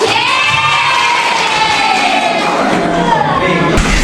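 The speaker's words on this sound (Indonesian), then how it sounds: "Tepuk tangan, imposters." A classroom of schoolchildren cheers loudly, a sustained burst of shouting young voices right up close, with the clapping buried under the cheering.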